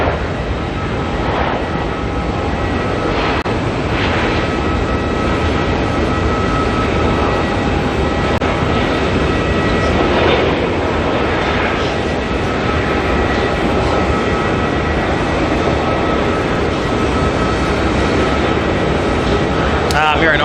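Boeing 777 jet airliner rotating on takeoff at Auckland Airport, a sustained loud engine roar with broad rumble, steady throughout, with voices talking over it.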